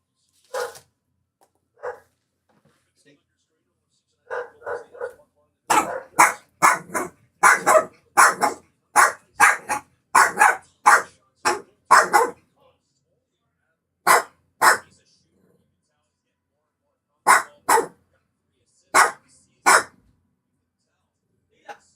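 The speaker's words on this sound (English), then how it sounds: "Sorry, dog's barking." A dog barks repeatedly nearby in loud, uneven bursts, clustered rapidly in the middle and spaced out toward the end, during a livestream reaction to a Bruins versus Avalanche hockey game.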